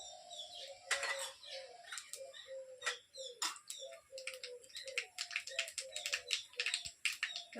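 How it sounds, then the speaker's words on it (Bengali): Black cumin seeds hit hot oil in a pan for a kalbaus fish and eggplant dish, giving sharp, irregular crackles and pops, close and fairly faint, with no talking. "একটু তেল দিয়ে দিই এবার কালো জিরে ফোড়ন দিয়ে দিলাম"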